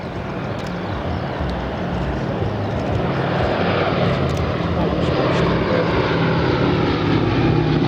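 Boeing B-17 Flying Fortress "Sally B", a four-engined piston bomber, flies a display at Biggin Hill Festival of Flight, its propeller engines giving a loud, steady, broad drone that swells slightly throughout.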